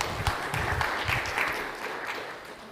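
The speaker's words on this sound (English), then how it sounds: "let's run a round of applause for him" A conference hall audience at OpenFest 2024 claps for a speaker coming on stage, a brief, fairly soft patter of hands that fades slightly toward the end.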